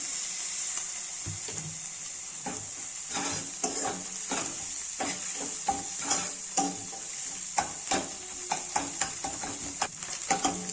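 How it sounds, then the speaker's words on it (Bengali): Egg frying in a pan for egg muri, a continuous sizzle with repeated sharp spatula scrapes and taps that grow more frequent toward the end, close and fairly clear. "ভালো করে আমি ডিমটাকে ভেজে নেবো"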